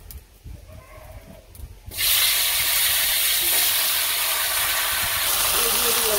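Curry of vegetable stems, potato and eggplant hits a hot pan in a village kitchen, bursting into a loud, steady sizzle after a quieter start with soft background sounds.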